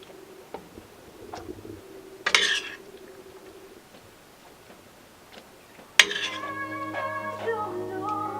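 A cooked moose and vegetable stew is ladled into dishes in a sailboat galley, with two distinct metallic clinks of utensil on dishware, the second followed by a lingering ringing tone, amid quiet background.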